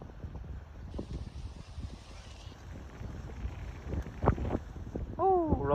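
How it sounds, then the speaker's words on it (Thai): A cold, dry wind buffets the microphone outdoors as a low, uneven rumble that swells and fades throughout, with a brief tonal sound near the end. "โอ้ลมหนาวแห้งคักดี"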